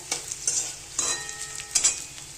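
Edible gum (dink) roasting and puffing in a pan for dry fruit laddoos, giving soft repeated sizzles and crackles with stirring scrapes at a steady rhythm, close and fairly quiet, no talking.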